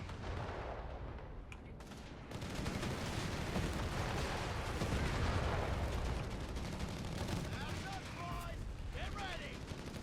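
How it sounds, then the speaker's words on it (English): In the World War II strategy game Company of Heroes 3, bazooka shots and mortar rounds fire steadily at a Panzer III, with dense booming and crackling gunfire throughout and a commentator talking over the battle. "the bazooka shots, as long as they're not being focused on, can still wear down the health of that Panzer III"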